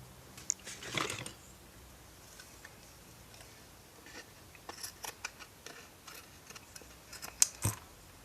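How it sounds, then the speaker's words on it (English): Scissors snip off excess material on a shabby chic altered box craft, quiet scattered cuts with one louder slice near the start and a cluster of crisp snips toward the end. "And then I'm just gonna cut off the excess."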